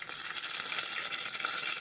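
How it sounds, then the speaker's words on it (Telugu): Cumin, mustard seeds and dried red chillies fry in hot oil for a pepper rasam, a steady dense crackling sizzle, close and continuous throughout with no talking. "స్టవ్ ఆన్ చేసుకొని ఆయిల్ వేసి ఆయిల్లో కొంచెం జీలకర్ర ఆవాలు వేయాలి, వట్టిమిర్చి వేయాలి"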